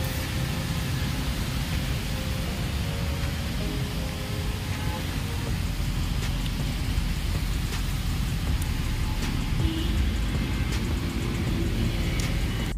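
Steady rain falls outdoors, a dense even hiss across the whole stretch with scattered raindrop ticks and a low rumble beneath, continuous and fairly loud throughout.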